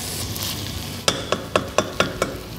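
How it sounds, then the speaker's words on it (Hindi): Mutton searing over high heat in a pan: a soft sizzle underneath, then a run of five or six sharp scraping strokes at an even pace as the meat is stirred, close and fairly loud. "मटन को अच्छी तरह से भूनना है हमें तेज़ आंच पर"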